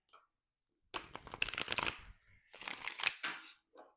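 Tarot cards shuffled by hand in a kitchen, two bursts of quick riffling and flapping with a short pause between, close and fairly loud.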